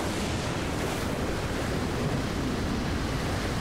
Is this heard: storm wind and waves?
yes